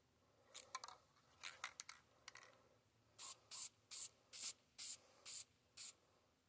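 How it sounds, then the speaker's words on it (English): An aerosol can of spray paint coats a metal trap in short hissing bursts, first a few quick uneven puffs, then seven steady, evenly spaced blasts, close and loud. "I'm going to go ahead and spray paint this Z-trap here"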